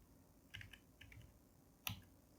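A few quiet keystrokes on a computer keyboard while Bangla text is typed, in short scattered clusters with one sharper click near the end, faint and with no talk.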